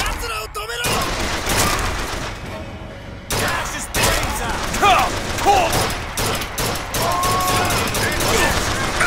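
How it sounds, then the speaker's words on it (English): Rapid automatic gunfire from a gun turret in the video game Bioshock Infinite, loud bursts of shots under continuous game noise and effects, with someone talking over it. "Let's have the turret fire a bit."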